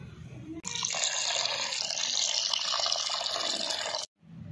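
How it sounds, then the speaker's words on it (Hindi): Running tap water pours steadily over cut liver being rinsed in a kitchen sink, a continuous splashing hiss for about three and a half seconds before stopping abruptly. "अब हम करते हैं कलेजी को धोना शुरू।"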